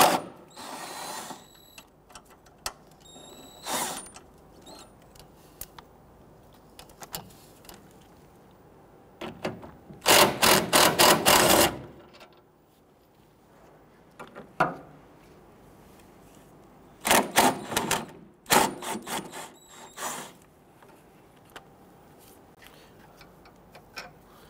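A ratchet loosens 13mm nuts and bolts on the torque strut mount of a 2011–2017 Nissan Quest 3.5L V6, with bursts of rapid clicking separated by quiet pauses and scattered single ticks and clunks nearby.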